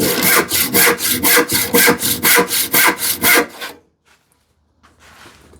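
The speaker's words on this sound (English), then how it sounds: "I use a rip saw, my 10 TPI," A hand-sharpened 10 TPI rip saw cuts through wood for a TV unit, about a dozen loud, even back-and-forth rasping strokes, then the sawing stops and it goes quiet apart from a faint rustle.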